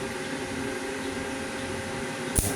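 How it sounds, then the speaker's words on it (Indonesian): An AC 300 welding transformer hums steadily and roughly while arc welding, a continuous coarse drone that is broken near the end by a single sharp click. "suaranya agak kasar di pengelasan"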